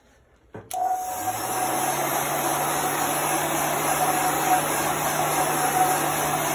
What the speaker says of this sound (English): I'm going to go ahead and I'm going to dry this with my heat gun